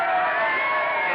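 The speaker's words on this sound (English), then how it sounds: "They're yelling for you." A crowd outside yells and cheers in a 1942 radio drama, a brief, dense roar of many voices held at an even, moderately loud level.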